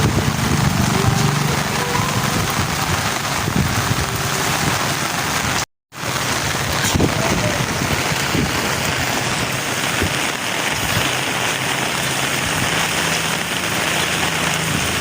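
Heavy typhoon rain (Typhoon Ada) pours steadily in Eastern Samar, a dense, loud, continuous hiss of drops on surfaces with no real wind, broken only by a brief dropout near the middle.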